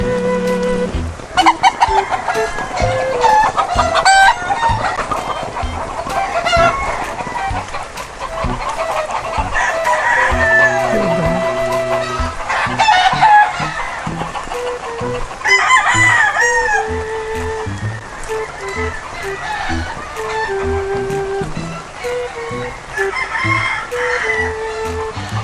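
Roosters crow repeatedly and hens cluck on a rain-soaked farm during a typhoon, the calls loud and close, overlapping in bursts over a continuous hiss of rainfall.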